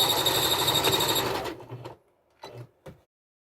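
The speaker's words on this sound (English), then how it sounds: "So now that I have stitched the heading on the scarf" A home sewing machine runs steadily, stitching the heading on a scarf valance, then stops with a couple of short mechanical clunks and whirs before silence.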